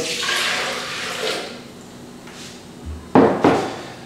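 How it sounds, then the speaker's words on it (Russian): Orange juice pours steadily into a blender for a few seconds, followed by a couple of sharp knocks or clunks near the end. "Наливаем в блендер."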